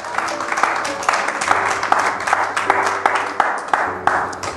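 Church congregation applauding and cheering in praise of the Lord, a dense continuous wash of clapping with scattered sharper claps across the whole stretch, close and fairly loud.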